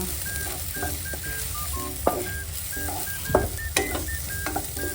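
Chili and garlic stir-frying in oil for a Thai pickled bamboo shoot dish: a continuous close sizzle with occasional clinks and scrapes of a utensil against the pan and faint electronic beeps in the background.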